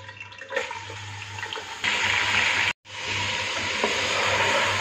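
A kilo of goat mutton hits about a cup of hot cooking oil for a white korma, making a loud, close sizzle that surges partway through, breaks off briefly, then resumes steadily with stirring.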